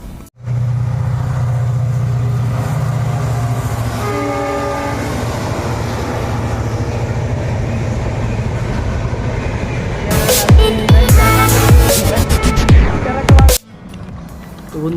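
A train passes close by at a station near the Jagiroad hills in Assam, its long steady rumble and wheel clatter continuing throughout, with a horn blast and sharp metallic squeals near the end.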